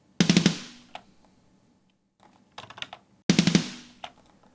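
A snare drum with a single sample layer replacing each hit, three separate sharp cracks with short tails, the first and last loud and the middle one quieter, dry and close.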